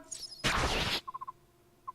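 A critical strike lands in Fire Emblem: Path of Radiance, a loud burst of crashing impact noise lasting about half a second, followed by a few short high chiming blips.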